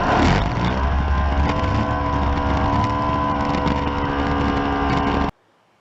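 An Arctic Cat Thundercat 900 snowmobile screams down an asphalt strip under hard acceleration, its loud, steady engine roar holding high and close for about five seconds before cutting off abruptly into near silence.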